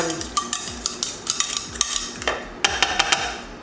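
A spoon stirs mashed potatoes in a pot after salt is added, for a parmesan mash. Sharp scrapes and clinks come in an irregular rhythm, close and fairly loud, with no talk.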